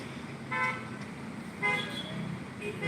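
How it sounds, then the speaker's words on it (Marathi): Congested traffic on the Panjim–Mapusa road in Goa, with heavy vehicles in the queue; car horns toot in two short bursts over a steady low engine and road rumble. "अशा प्रकारे हे बघा ही वाहतूक कोंडी झालेली आहे"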